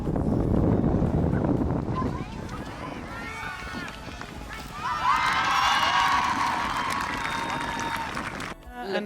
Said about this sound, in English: We're going to get a big roar from the crowd